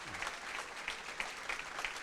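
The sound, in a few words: church congregation applause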